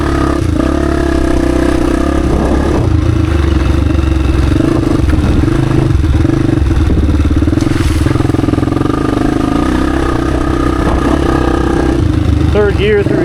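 Honda XR dirt bike engine, an XR250 or XR400, burbling steadily in third gear just above idle on a rocky trail loop, a continuous low rumble with light clatter throughout.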